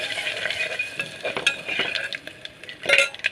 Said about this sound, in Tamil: எண்ணெய் ஊற்றி கடுகு போட்டு கடலைப்பருப்பு தாளிச்சுட்டு